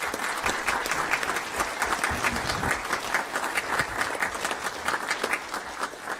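Audience applause at a school district board meeting, a steady wash of many hands clapping indoors that holds for several seconds at moderate loudness.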